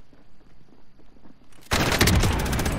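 Call of Duty Warzone gunfire rips out in a dense, loud burst of rapid shots partway through, after a quieter stretch of low game noise and scattered sounds.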